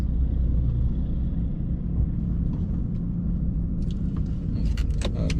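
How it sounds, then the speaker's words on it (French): A quad bike riding through a town in southern Yukon, its engine a steady loud rumble that carries throughout, with a few light rattles and clicks near the end. "on se balade en quad dans la ville"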